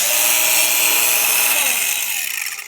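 A WORX cordless battery angle grinder spinning at full speed, a loud, close, high-pitched whine held steady before it starts to wind down at the end.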